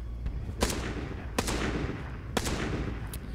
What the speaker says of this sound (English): I found where the gunshots are coming from